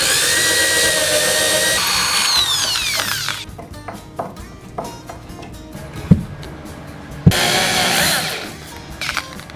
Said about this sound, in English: I'm just going to drill a hole just a little bit higher.